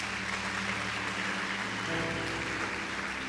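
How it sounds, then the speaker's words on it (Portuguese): A church congregation applauds in a steady, even wash of clapping that carries on throughout, moderately distant, with no voices over it. "Aplauda o Senhor então em nome de Jesus."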